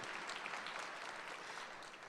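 Audience at an education awards ceremony applauding, a dense, steady wash of clapping held at moderate distance and fairly quiet throughout, with no voices standing out.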